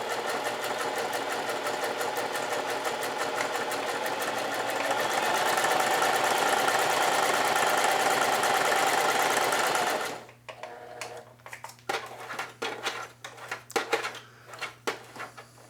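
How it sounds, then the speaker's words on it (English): A sewing machine zigzag-stitches along the edges of an apron in a fast, steady mechanical whir that grows a little louder midway, then stops and gives way to scattered handling clicks and rustles. "Now I can zigzag the whole thing, all four sides."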